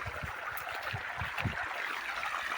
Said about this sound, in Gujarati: પાણી ચાલુ છે, જોઈ શકો છો તમે વિડીયોમાં આ ગવામાં.